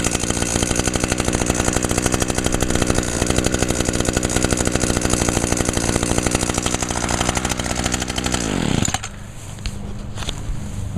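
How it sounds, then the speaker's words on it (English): Lawnmower engine running steadily and loudly for about nine seconds, then cutting off abruptly, leaving quieter background noise. "I hear a lawnmower back there"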